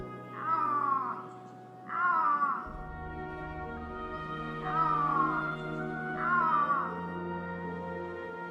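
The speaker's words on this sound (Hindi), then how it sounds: "दुनिया की सबसे डरावनी बिल्ली आइबेरियन लिंक्स की दहाड़ एक दहशत पैदा करती है" An Iberian lynx lets out four harsh, yowling calls in a slow, uneven rhythm, fairly close, with quiet hum between the cries.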